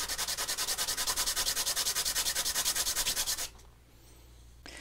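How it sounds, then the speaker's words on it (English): A saxophone part being sanded flat, heard as fast, even back-and-forth rasping strokes that are loud and close, then stopping abruptly into quiet room tone. "we have to sand this flat"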